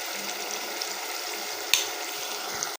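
Ingredients for an egg and potato curry frying and roasting in a pan make a steady, close sizzle, with a single clink of a utensil partway through and no talking.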